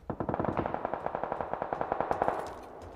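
Rapid automatic gunfire in the PUBG battle royale game, a sustained burst of evenly spaced shots with echo, moderately distant, ending in a fading tail.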